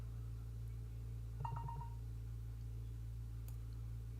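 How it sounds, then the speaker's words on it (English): A phone chimes a quick notification for incoming text messages, a short bright run of a few beeps over a steady electrical hum, with a faint tick shortly after. "Yes, phone, I know I'm receiving texts."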